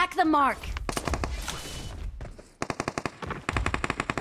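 Machine gun fire in a video game rattles in rapid bursts, aimed at a Titan, with loud clustered shots and short pauses between volleys, while an excited voice shouts over the start.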